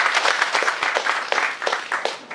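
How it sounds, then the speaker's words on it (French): Audience members at a business opening event in Burkina Faso applaud, a burst of individually distinct claps at a close, lively pace that keeps going unevenly for a couple of seconds. "Applaudissez pour le président."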